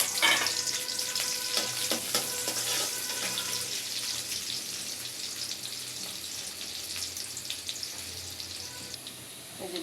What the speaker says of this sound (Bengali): এই যে পেঁয়াজ রসুনটা ভাজা হয়ে গেছে